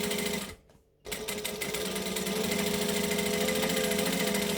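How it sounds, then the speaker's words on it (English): A sewing machine running a long top stitch along fabric, a steady close buzzing hum that stops for a brief pause near the start, then resumes and carries on evenly. "I'm going to top stitch on the fabric"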